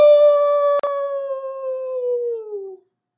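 A single long, mournful dog howl that slowly falls in pitch and fades out, briefly interrupted by a short click.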